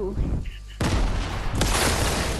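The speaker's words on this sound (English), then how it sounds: "Grenade!" A grenade explodes in a video game, heard as a sudden loud burst followed by a second blast that ring out densely after a short quiet moment, with brief voice sounds at the start.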